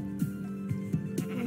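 Sheep in Minecraft bleat several times in quick succession, short wavering calls against a quiet game background.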